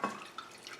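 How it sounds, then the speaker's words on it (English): Hot water poured into a small pan for a brownie batter gives a brief, faint trickling splash. "So obviously first we've got to pour in the hot water."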